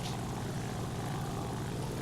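Propeller plane engine in the War Thunder flight game, a steady, loud, continuous drone with a dense airscrew buzz and no break throughout.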